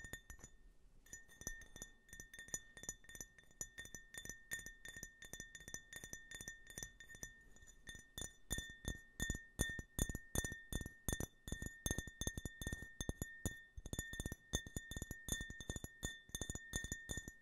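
A Coca-Cola drinking glass tapped steadily with fingertips or nails, giving a long run of bright, rapid clinks that grow denser and louder partway through, close up with no talking.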